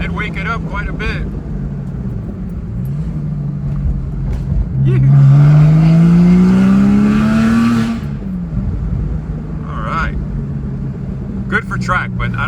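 Porsche Boxster S fitted with new headers idles with a deep exhaust rumble, then revs up loudly for a few seconds and settles back to idle; a person talks over parts of it.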